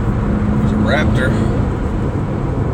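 A Ford Raptor pickup truck, an older model with a 6.2-liter V8 engine, drives past on a road. Its engine and tire noise fill the clip as a steady broadband rumble, fairly loud and close, with no talking heard.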